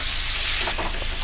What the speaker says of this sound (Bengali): এবার আমি দিয়ে দেবো ভেজে রাখা পটলগুলো।